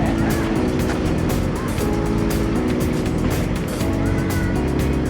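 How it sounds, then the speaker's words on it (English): The Skunk Train rumbles past nearby with a steady, continuous clatter and engine drone that holds at an even loudness throughout. "We have the skunk train passing us."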